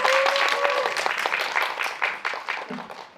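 An audience at a film screening event claps in a brief burst that starts strong and thins out over about three seconds, with a faint voice briefly heard near the start.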